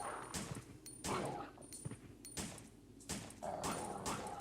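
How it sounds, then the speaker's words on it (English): Dogs in the video game Resident Evil Survivor snarl and bark in repeated bursts over game noise and music, several loud episodes spaced across the stretch. "This can be really annoying now with the dogs."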